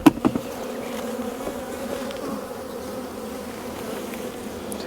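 Honeybees hum around an open hive frame while a beekeeper works on an artificial swarm, a steady close drone with a couple of brief knocks at the start.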